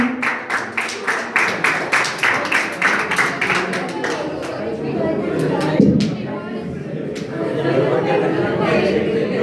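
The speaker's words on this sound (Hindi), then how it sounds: "ताली बजाइए।" Audience at a school farewell ceremony for Class 12 students claps in a brisk, rhythmic burst that loosens into scattered clapping under steady crowd chatter and murmuring voices.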